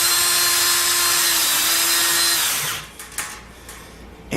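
Power drill drives a long screw into the corner of a piece of furniture, a loud, steady, high whine for about two and a half seconds, then stopping, followed by a few soft clunks as the part is handled.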